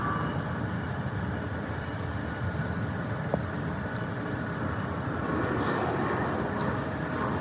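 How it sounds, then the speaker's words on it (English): A Delta E-175 jet departing from runway 24 left at LAX gives a steady, broad jet roar heard from a distance, constant and unbroken, with faint background noise. "Got a Delta E-175 lining up on 24 left for departure."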